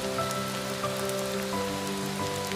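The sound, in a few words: rain falling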